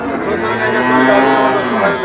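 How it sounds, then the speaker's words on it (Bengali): Dairy cows on a farm give a loud, close moo that rises and falls over about two seconds, with no talk over it. "এগুলো সব দুধের গরু সব দুধ আছে"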